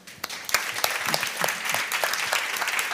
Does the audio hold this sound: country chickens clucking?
no